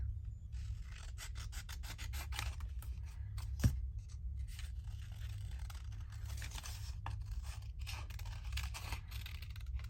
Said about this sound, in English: I just wiggle my scissors along and get it cut out.